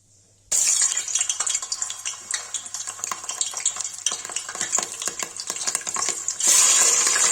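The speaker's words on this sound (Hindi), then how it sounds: "भाई देखिए तेल हो गया, वैसे मटन डाल देंगे।" Mutton drops into hot oil for a Kashmiri-style dish and erupts into a loud, steady sizzle, with scraping and stirring clatter throughout and the frying swelling louder near the end.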